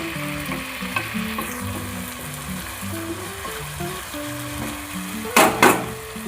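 Chicken pieces frying and sizzling steadily in a pan as their released water cooks off, with stirring scrapes throughout and a louder burst of sizzle near the end; no voices.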